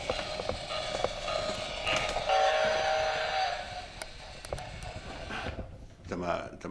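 Train sounds mixed with a person talking, including a steady rumble and a short whistle-like tone partway through, heard indoors at a mechanical music museum.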